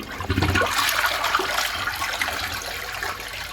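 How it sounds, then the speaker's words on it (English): A neglected household toilet flushes with a loud rushing gush of water that settles into a steady swirling drain and refill, close and alone without any talk. "I'm flushing the toilet like this"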